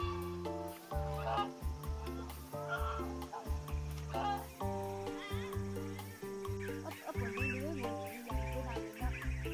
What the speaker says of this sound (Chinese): 那个最大一个的就是老公鹅，矮脚的就是老母鹅